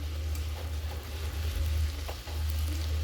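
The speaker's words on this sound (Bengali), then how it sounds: "চলো যাই এবার সোজা রান্নাঘরে, কড়াইটা বসিয়ে এগুলো ভেজে ফেলি এবার গরম গরম।" Puffed luchi deep-fry in oil in a wok, making a continuous close bubbling sizzle. A low steady hum runs underneath.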